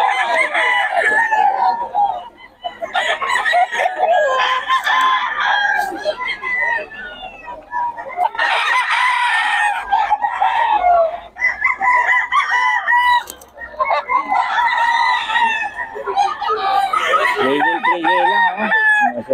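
Roosters crowing repeatedly at a busy live-bird market in Bocaue, loud and close, with several overlapping crows and clucks mixed with a vendor talking continuously over them.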